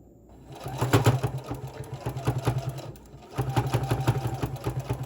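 A sewing machine stitches in two rapid, rhythmic bursts with a brief pause between, loud and close, its motor straining through many layers of fabric.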